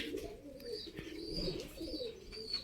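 Pigeons cooing on a rooftop at dusk, with soft repeated coos and a few chirps from nearby birds, fairly close and without talking.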